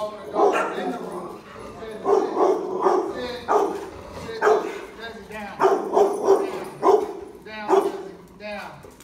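A four-year-old Lab/Mastiff mix barking and yipping repeatedly indoors during a training session, loud close woofs in an uneven rhythm mixed with whimpers, while a person talks over it.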